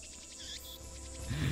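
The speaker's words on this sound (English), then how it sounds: "Damn cicadas won't shut up" Cicadas on a hot evening, heard as a visual novel sound effect, give a faint, repeated high chirping pulse with a low rumble rising at the end.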